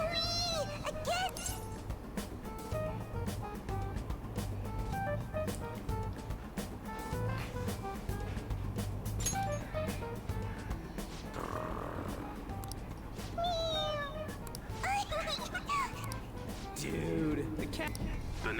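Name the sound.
cat meowing in the video game Persona 5 Royal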